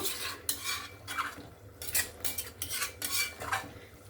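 Mutton with fried potatoes stirred and sautéed in a pan, a spoon scraping and clanking against the metal in rhythmic bursts, close and fairly loud over a faint sizzle, with no talk.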